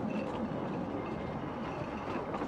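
A 1950s-vintage narrow gauge locomotive runs steadily, a continuous rumbling rail-and-machinery roar at even loudness with no breaks or voices.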